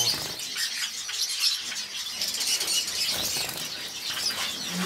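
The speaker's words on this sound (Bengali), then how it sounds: "এটা আমার ব্লু গোল্ডেন আর ইয়েলো গোল্ডেন খুব ভালো পেয়ার" Blue and yellow golden Gouldian finches in a breeder's cage give a steady wash of high, thin chirps and fluttering wings, fairly close and continuous throughout.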